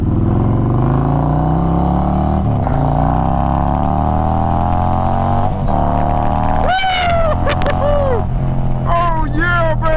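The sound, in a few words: tuned car engine revving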